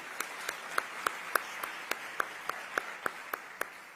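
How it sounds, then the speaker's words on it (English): Audience applause for a school chess team at an ICT summit, heard as a steady, evenly spaced run of about a dozen sharp claps over a faint background hum, with no talking. "So a round of applause to the chess team."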